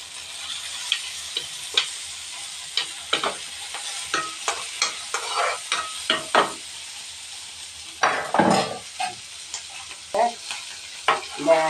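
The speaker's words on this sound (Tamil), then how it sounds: "தக்காளியும் அதில் போட்டு வணக்கிறோம்" Tomatoes sautéing in a pan for pepper kuzhambu, a Tamil curry: soft sizzling under repeated stirring scrapes and taps of a spoon against the pan, close and fairly quiet, with no speech.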